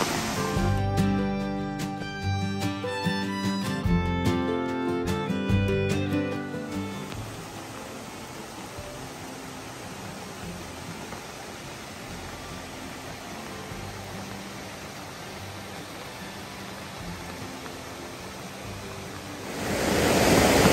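Water rushing over small cascades on a creek below Laurel Falls on the Appalachian Trail, a steady broadband roar that holds nearby throughout, with some clattering sounds at the start.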